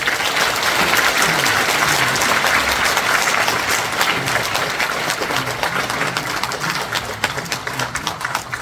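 Sustained audience applause at a ceremony honoring a former prime minister, steady and dense from start to finish with a faint bird chirp or two above the clapping.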